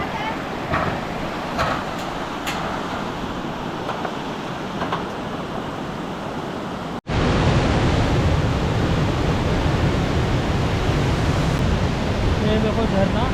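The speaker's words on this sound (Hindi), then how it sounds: "ये देखो झरना बहुत ही वेग से बह रहा है" A waterfall in the Valley of Flowers, Uttarakhand, rushes with great force, a loud steady roar of falling water that swells sharply halfway through and stays dense and close, with soft wind or water noise before it.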